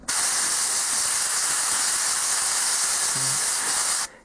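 An airbrush sprays paint onto a miniature figure's backpack exhaust pipes with a close, steady hiss that runs for about four seconds and cuts off sharply.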